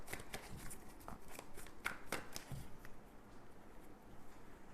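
Tarot cards shuffled by hand during a twin flame reading, a steady run of soft papery riffles and slaps close up with no talking over it.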